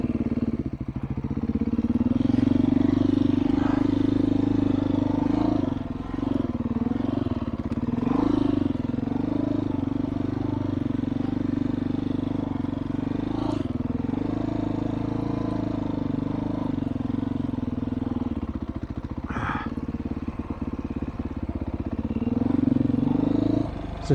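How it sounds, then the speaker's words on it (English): Dirt bike engine idling along slowly in first gear on a trail, a steady loud mid-pitched drone with small throttle blips and rumbles, continuous throughout with occasional clatter. "when I'm going really slow in first gear"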